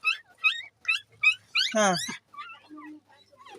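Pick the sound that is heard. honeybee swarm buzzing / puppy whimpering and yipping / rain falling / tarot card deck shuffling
puppy whimpering and yipping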